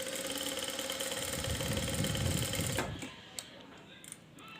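A sewing machine stitches blouse pieces in a fast, steady whirring run for about three seconds, then stops, leaving a few light clicks and handling taps.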